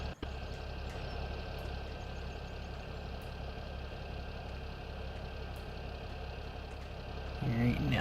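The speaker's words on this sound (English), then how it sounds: "Let's get this tractor in here." Tractor engine in the video game Farming Simulator 17, a steady low mid-range idle droning at moderate volume throughout, with a slight rise in rumble near the end as a voice begins talking.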